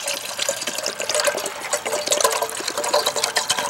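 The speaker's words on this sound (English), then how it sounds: "simply add water, enough to fill up my kettle" Bottled Deer Park water poured from a 16-ounce bottle into a kettle beside a home fire pit, a steady close splashing and gurgling stream that runs continuously without talk.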